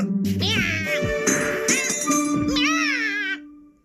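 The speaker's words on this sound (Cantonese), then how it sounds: "你隻賊仔貓真係好衰" A cartoon cat meows several times in rising, wavering cries, with a metallic jingle and some background clatter mixed in.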